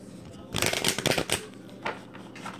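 A deck of tarot cards being shuffled up close: a quick run of dense riffling bursts in the first half, then a couple of softer, briefer shuffles trailing off.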